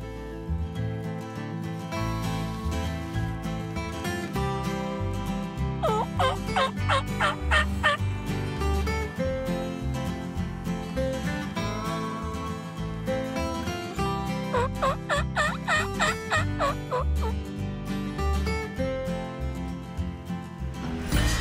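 A wild turkey gobbles repeatedly in rapid rattling bursts, loud and close, over a steady background.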